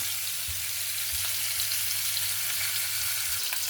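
Chicken breast and sausage skewers fry in a pan, a steady close hiss of sizzling oil with a few soft low knocks, no one talking.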